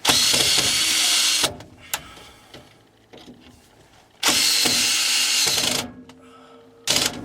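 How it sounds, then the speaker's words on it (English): A power drill fastens an aftermarket fuel pump beneath an Isuzu Rodeo during an EFI-to-carburetor swap, with two loud, bright whirring runs of about a second and a half each, quieter clanking between them, and a short final burst. "I'm going to go ahead and fasten this fuel pump down."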